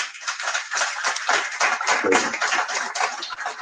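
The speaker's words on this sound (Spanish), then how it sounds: "Otro aplauso." Dense audience applause at a publishing house's 25th anniversary celebration, a steady wash of many hands clapping at moderate volume with no talk over it.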